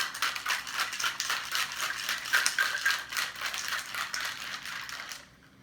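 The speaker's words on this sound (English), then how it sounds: "Okay, so let me shake up my cocktail." A cocktail shaker holding a turmeric drink is shaken hard in a steady rapid rhythm, loud and close, for about five seconds before stopping abruptly.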